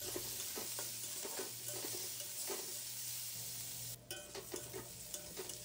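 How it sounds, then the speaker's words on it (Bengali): Finely chopped onion frying in hot white oil in a kadai for prawn chops, a steady close sizzle with light stirring, a brief dip midway before the crackle continues, with no talking. "তেলটা গরম হয়ে গেলে তাতে পেঁয়াজ কুচিটা দিয়ে দেব।"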